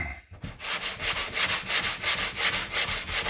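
Bondo body filler along a car body line being sanded with a long sanding block, a close rhythmic rasp of steady back-and-forth strokes after a brief pause.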